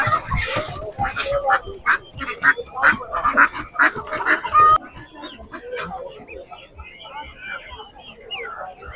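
Ducks quacking in a busy poultry market, repeated loud nasal calls close by over crowd noise, with people talking throughout.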